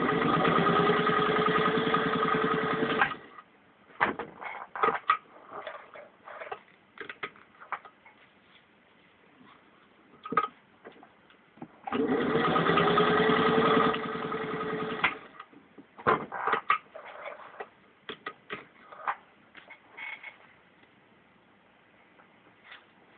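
A 1947 Singer 201-2 sewing machine stitches through four layers of vinyl upholstery in two loud, steady whirring bursts of about three seconds each, separated by quieter clicks and handling noises.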